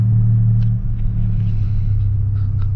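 A Stage 3 tuned VW Polo Highline with traction and stability control switched off, its engine giving a loud, close, low droning rumble that sits steady and heavy before easing slightly partway through, with no talking.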